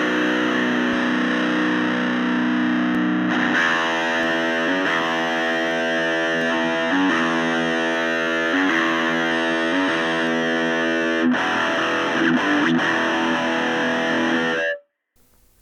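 Distorted electric guitar through a D-Night-Audio Micro Marsh impulse response with a darker tone, playing thick chugging chords and rhythmic palm-muted riffs, loud and continuous, then stopping abruptly.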